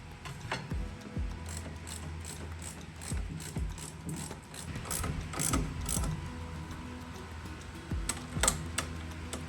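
A ratchet tightens the brake caliper bolts on a KTM RC8 motorcycle fitted with Stylema calipers, giving repeated quick pawl clicks in bursts of strokes, close and clear, with no talking.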